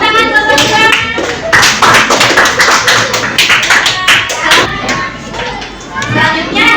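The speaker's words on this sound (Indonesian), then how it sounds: "Kasih tepuk tangan buat teman-teman." Schoolchildren clap for their classmates in a classroom, loud close bursts of uneven hand claps in waves, with children's voices mixed in.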